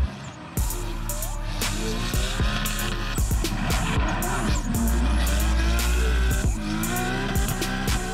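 Drift cars at Sosnova circuit during the Czech Drift GP, engines roaring with repeated sharp tire squeals and skids, loud and continuous with several overlapping bursts.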